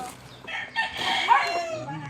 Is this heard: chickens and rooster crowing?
yes